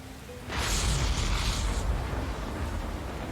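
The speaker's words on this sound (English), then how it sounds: "it stopped raining only just to come back" Heavy rain in the video game Master Detective Archives: Rain Code, a dense hissing downpour that starts abruptly and holds as a loud, steady wash with no talk.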